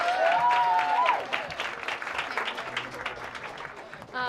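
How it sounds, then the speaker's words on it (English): Crowd applause with whoops and cheers erupts, loudest at first and then thinning into a scattered patter of clapping, before a voice speaks at the very end. "Let's get a round of applause for everyone."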